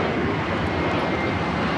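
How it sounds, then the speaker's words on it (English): A JetBlue Airbus A321 takes off from LAX, bound for Fort Lauderdale: a loud, steady, broadband jet roar that holds at full strength throughout with no voices over it. "Those are the sounds of JetBlue 700 taking off to Fort Lauderdale on the A321."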